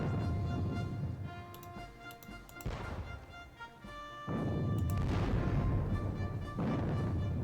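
Artillery fire in the WDS Battle of Borodino war game, with a few sharp booming shots spaced apart and each followed by a rumbling tail, plus faint ticking between them.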